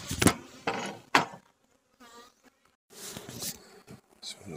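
Honeybees in an opened backyard beehive: buzzing comes in close bursts and rustles, loud at the start, then a quiet gap and another burst of activity with scattered handling knocks.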